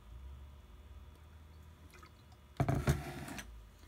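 Water is poured into a small cup while making slime, a short, loud splashing gush rising after a quiet stretch with faint handling noises, then tapering off after less than a second.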